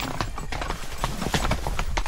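Horses on a rugged trail ride clip-clop steadily, their hooves striking close and loud in a quick, uneven rhythm with no clear talking.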